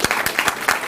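An audience at a religious lecture claps in a short burst, with several distinct loud hand claps in quick succession close by.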